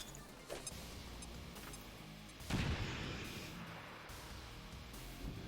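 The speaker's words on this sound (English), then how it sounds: "Grenade deployed." A grenade explosion in the XCOM 2 video game, a loud booming blast that swells sharply midway and then rolls off into a sustained rumble, with a smaller thump just before it.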